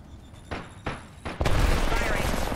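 Gunfire in the video game Apex Legends: two sharp single shots followed by a loud sustained burst of rapid fire and explosive noise, close and dense.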